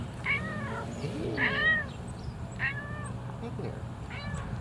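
A cat meows several times in a row, clear over low background noise, with a voice briefly greeting it.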